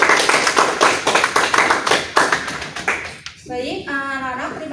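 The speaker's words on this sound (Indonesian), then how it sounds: "tepuk tangan dulu dong buat kelompok" Students in a classroom clap for a presenting group after a lesson on population data sources, brisk overlapping claps for about three seconds that fade out, followed by a short burst of nearby talk.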